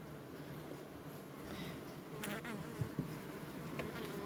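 Honeybees from Carniolan hives buzz steadily in a dense, moderately faint drone that holds for a few seconds with no voices.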